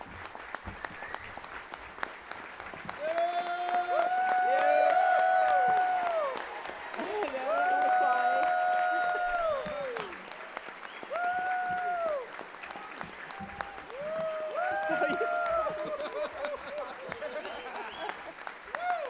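An audience at an awards breakfast applauds Sharon Williams, JobTrain's leader, with steady, full-room clapping that swells and holds while music plays underneath.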